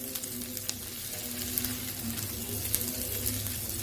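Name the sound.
vegetables sizzling while frying in a pan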